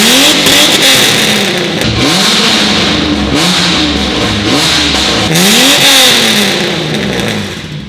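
A Holden VX engine revs repeatedly through a freshly fitted exhaust, loud and close, with rising and falling blips in a steady rhythm and no talking.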